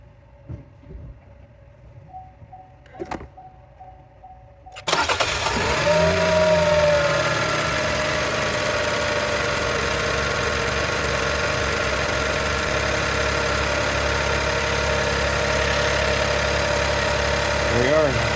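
A Chevy Trailblazer engine cranks and fires after a few seconds of quiet with faint handling noises, then settles into a steady, loud idle that runs on evenly to the end.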